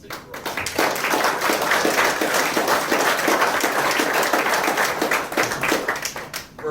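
At an outdoor ribbon cutting for the Northpointe housing project in Viroqua, Wisconsin, the gathered audience breaks into a round of applause, swelling quickly to a steady burst of many clapping hands before tapering off.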